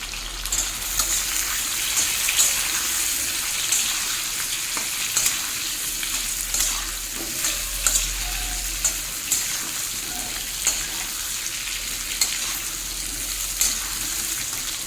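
Potatoes and onions fry together in a pan over high flame, a loud continuous sizzle with occasional stirring clatters and scrapes, no voices.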